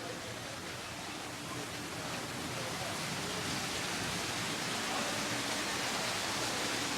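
A water feature inside a castle-themed Christmas display splashes continuously as a dense, steady rush of falling water. It stays at an even level throughout, with no clear speech.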